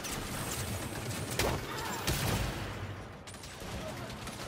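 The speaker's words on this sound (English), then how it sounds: "Those snipers are pinning us down." Sniper gunfire in the Saints Row video game on PlayStation 4: a dense, noisy game battle with a couple of sharp, loud shots cracking through a steady wash of combat noise.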